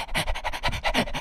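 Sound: voice imitating a panting dog

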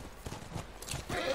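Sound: horse galloping hooves, from video game The Last of Us

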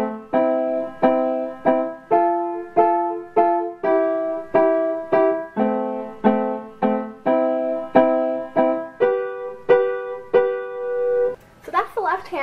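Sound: piano left-hand chorus chords for a song

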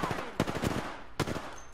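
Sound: sniper rifle gunfire in a video game

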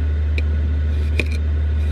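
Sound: diesel heater running in a van

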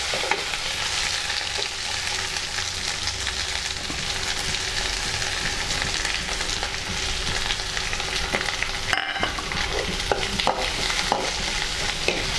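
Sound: onions frying and being stirred in a pan

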